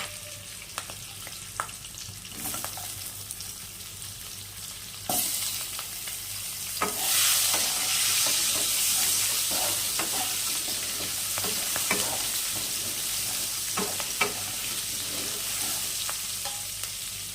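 Cut potatoes sizzle and fry in a pan while a utensil stirs them, scraping and clattering in irregular bursts over a steady hiss that grows louder midway, with no talking.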